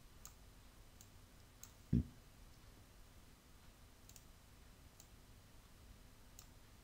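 A single sharp computer mouse click stands out clearly in a quiet room, with a few fainter ticks scattered before and after it.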